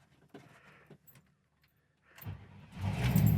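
A 1966 Oldsmobile Toronado engine cranks and catches on the first try after some quiet rustling and a jingle of keys, then settles into a loud, steady idle up close.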